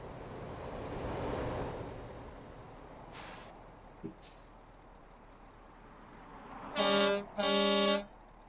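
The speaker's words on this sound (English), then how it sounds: "There we go, there's a horn." Truck horn in the Euro Truck Simulator 2 video game sounds two loud, long blasts in quick succession near the end, following a stretch of soft wind-like background with a couple of faint thuds.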